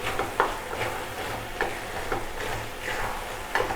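Mince meat with cardamom being stirred in a pan, a soft sizzle under several distinct scrapes and clinks of the spoon against the pan at uneven intervals, close and moderately quiet.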